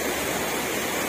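Naina waterfall in the hills of Netarhat during the monsoon, water pouring down in a dense, steady, broadband roar with no breaks, heard alone.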